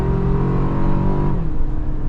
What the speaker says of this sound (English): pedal to the floor, getting up to speed nicely